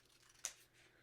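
A single quick snip of scissors trimming a paper letter shape, brief and faint in a quiet room.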